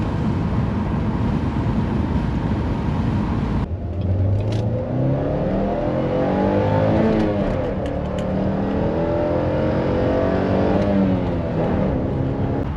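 A Saturn Sky roadster sports car accelerating up an interstate entrance ramp, its engine note climbing through rising, sweeping tones after a gear change, loud and continuous from inside the car.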